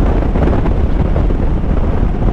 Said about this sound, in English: Sounds a little windy.